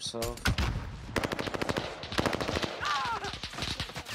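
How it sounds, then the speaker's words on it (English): Rapid automatic gunfire and single shots from the Call of Duty Warzone video game, loud repeated bursts throughout with some in-game voice chatter underneath. "We're getting shot at. too."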